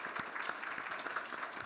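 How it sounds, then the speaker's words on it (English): An audience at a horse racing women's summit applauds, a brief, fairly faint, even patter of many hands clapping steadily throughout. "Let's give Chelsea a round of applause."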